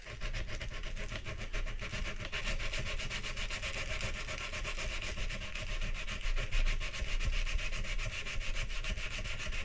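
Sandpaper worked hard against the wooden body of a Randy Jackson HSN guitar gives a dense, steady rasp with quick back-and-forth strokes that never pause, close and fairly loud throughout.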